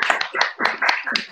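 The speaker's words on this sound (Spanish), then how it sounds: "Un aplauso, alumnos." A short burst of several hand claps in quick rhythm, like a small group of students applauding, moderately loud and close.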